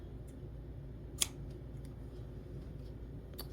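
Scissors cut through quilting fabric, giving a few faint, crisp snips, the clearest one near the middle, against a quiet room hum.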